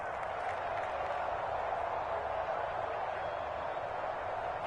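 Stadium crowd at an American football game cheering steadily ahead of a big third down late in the game, a dense, continuous roar with no breaks, even and loud throughout.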